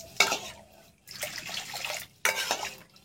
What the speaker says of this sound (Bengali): এবার ধীরে ধীরে আমি জল দিতে থাকবো এর মধ্যে